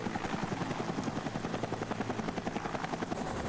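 Helicopter rotor blades in a video game cutscene thump in a fast, steady rhythm over a dense engine roar, loud and continuous throughout.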